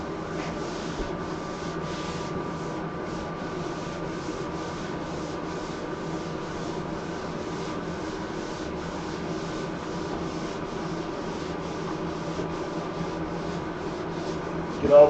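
Drywall is sanded by hand in a bathroom under construction, with a steady, rhythmic scraping rub repeating at an even pace over a constant low hum.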